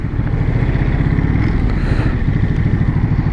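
A grand touring motorcycle engine runs steadily while riding, a loud, close, continuous low throb with an even pulse and road and wind noise, and no talking.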